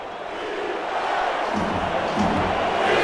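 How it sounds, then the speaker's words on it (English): A stadium crowd at a football game roars and cheers, swelling louder as fans rise to their feet during a crucial third down. "Crowd on their feet."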